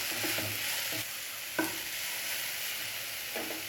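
Carrots and beans being stir-fried for vegetable wheat noodles make a continuous close sizzle, with a sharp clack of the spatula near the middle and a few stirring scrapes.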